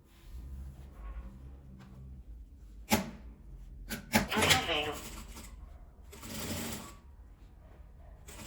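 A sewing machine stitching a gathered fabric ruffle onto a small zippered cosmetic pouch, heard in short bursts of rapid mechanical whirring between pauses, with fabric handling and faint background sounds.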